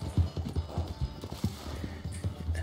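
A horse gallops in a video game, giving a quick steady clip-clop of hooves at moderate distance. The pace is even and rhythmic, with faint background ambience and no voices.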